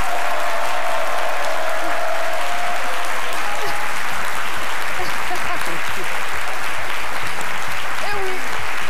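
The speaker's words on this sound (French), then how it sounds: "Avec vos applaudissements, bien sûr." A studio audience on a live French midday TV show applauds, a sustained wash of hand claps that fades slowly, with some murmuring and a faint voice underneath.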